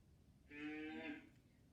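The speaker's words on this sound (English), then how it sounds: "when Betty moos, that's probably what she sounds like" A cow gives a single short moo, moderately loud and close, lasting under a second against a quiet background.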